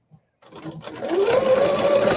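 A sewing machine backstitches across a bulky seam on a zipper pouch, its motor starting after a faint tick and building into a close, steady whir that rises slightly in pitch.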